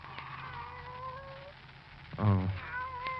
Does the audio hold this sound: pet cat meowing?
yes